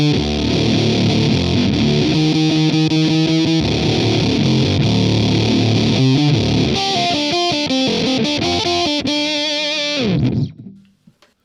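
Electric guitar through a Behringer Super Fuzz SF300 on its fuzz 2 setting, a scooped, bass-heavy fuzz tone, playing loud, thick riffs and sustained notes for about ten seconds before the sound stops abruptly and decays.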